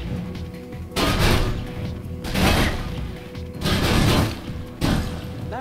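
Bursts of gunfire in the video game Mirror's Edge, with guards shooting at a ventilation system: four loud, dense volleys, each lasting about a second, separated by quieter stretches of droning mechanical background.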